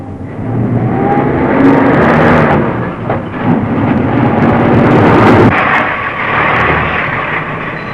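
Town bus engine starts and pulls away, a loud, near rumbling roar that swells, briefly dips, then surges again before fading slightly as it drives off.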